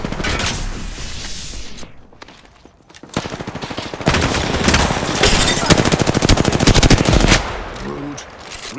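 Loud, close automatic gunfire from Apex Legends pours out in dense rapid bursts, with a short lull before a long sustained volley and a trailing weapon sound at the end.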